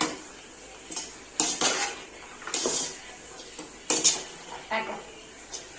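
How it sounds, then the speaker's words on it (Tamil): Vegetables being stirred in a pan for homemade roadside-style chicken fried rice: metal spatula scrapes and clanks against the pan in irregular bursts, with a faint sizzle underneath. "இப்போ நம்ம இந்த காயை நல்லா மிக்ஸ் பண்ணிக்கலாம்"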